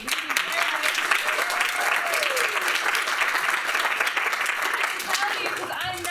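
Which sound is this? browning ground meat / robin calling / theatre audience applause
theatre audience applause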